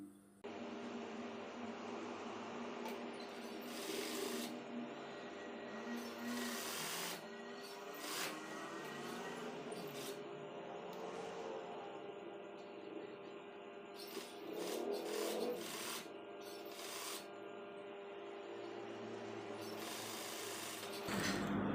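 Sewing machine stitching the side pocket of a koko shirt, a steady mechanical whir running almost continuously with small shifts in speed and brief pauses, close by and moderately loud.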